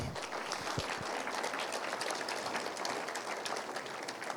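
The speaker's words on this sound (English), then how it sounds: "I get a big round of applause for these wonderful cabinet members" Audience clapping at a Hilo community meeting for County of Hawaii cabinet members, a steady round of scattered claps lasting several seconds.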